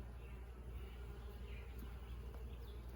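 Honey bees in a small five-frame nuc beehive make a steady, close, continuous buzzing hum that fills the whole stretch without pause.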